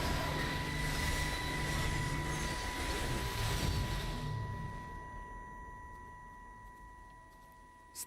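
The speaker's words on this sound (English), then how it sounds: "I can hear the jets coming." Jet planes approaching in the game Everybody's Gone to the Rapture, a broad loud roar that fades out after about four seconds, leaving a steady tone and a quiet hum.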